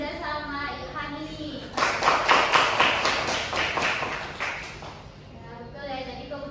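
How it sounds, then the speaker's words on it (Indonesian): A classroom breaks into a short burst of applause for students, a few seconds of scattered clapping from a small group, with a teacher's voice speaking before and after. "Boleh tepuk tangan untuk Kayla,"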